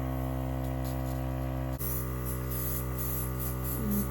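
An airbrush sprays makeup onto a face with a steady hissing spray and a constant mechanical hum underneath, close by, running continuously without pause.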